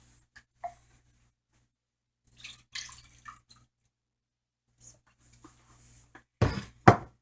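Rinse water is poured off a batch of homemade butter in a kitchen. There are faint, scattered trickles and drips, then a short, louder splashing pour near the end, with no talking.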